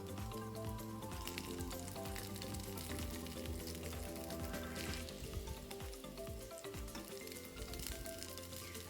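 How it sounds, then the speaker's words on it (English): Chicken shami kebabs fry in a pan of hot oil, giving a steady, dense sizzle that holds loud and close throughout, with no talking. "But frying like this, I feel it's more tasty."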